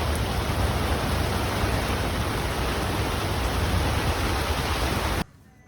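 Heavy rain pours down at a drag racing track as a dense, steady roar of close, loud hiss with no voices, then cuts off abruptly.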